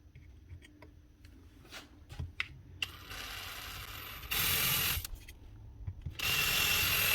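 A power drill bores holes through a router mounting plate for a Trend router table, with something underneath to protect the bench; two sustained bursts of whirring, with clicks and handling noises in between.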